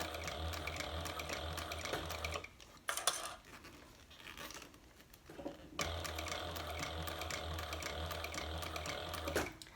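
A sewing machine stitches handbag shoulder straps in two fast, steady runs, one at the start and one after the middle, with a quieter stop between them and faint handling noises.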